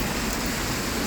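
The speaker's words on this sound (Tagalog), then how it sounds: "Ambon na ulan, baga." Drizzling rain falls steadily outdoors on a street, a continuous soft hiss with no pauses, close and even, with no voices.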